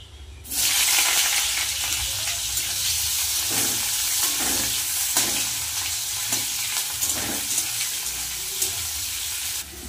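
Sliced onions hit hot fish oil in a pan and burst into a loud, steady sizzle that holds evenly throughout, with faint scraping stirs underneath.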